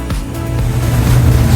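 Waves of four to five feet slamming against a boat crossing the sound, a loud, rough, low rumbling roar of water and hull that builds over a second and a half.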